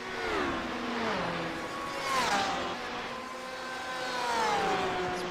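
Race cars in a video game endurance event at Watkins Glen roar along the front stretch, engines droning and shifting pitch as they rise and fall, a continuous layered whine at moderate loudness.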